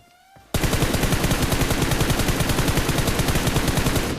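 Sustained rapid automatic gunfire from the mobile battle-royale game BGMI bursts in abruptly after a brief quiet moment, loud and continuous with a fast, even rhythm of shots.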